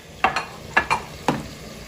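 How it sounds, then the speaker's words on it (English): Lamb browning in a pan for a stew, with five short scraping stirs against the pan in quick uneven succession over a low, steady background sizzle. "I'm browning my lamb"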